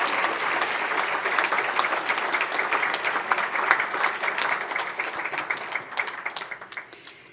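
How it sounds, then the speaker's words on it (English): Sustained audience applause at a scholarship gala, a dense crowd of many hands clapping steadily and loudly throughout, tapering slightly at the end. "Let's have another round of applause for these wonderful recipients."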